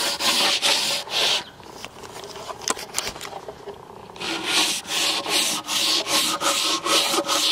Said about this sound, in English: So just gonna sand this down.